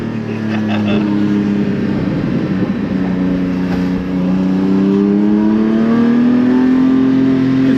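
A Porsche Cayman GT4 with an over-axle exhaust modification revs loudly and holds a deep, throaty drone that rises in pitch, with a rumbling exhaust note close by and no talk.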